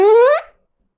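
A voice imitates a zipper closing with a short rising buzzy zip that ends abruptly, close and loud.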